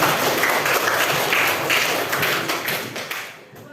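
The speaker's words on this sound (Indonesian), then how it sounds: "Tepuk tangan untuk buahnya." Students in an Indonesian-language classroom burst into clapping, a dense, brisk patter of many hands that carries on evenly before tapering off at the end.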